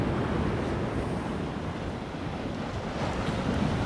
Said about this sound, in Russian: идет огромная волна